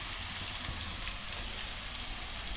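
Sliced onions frying in oil in a pan for a drumstick curry, a steady close sizzle and crackle continuing evenly throughout with no talking.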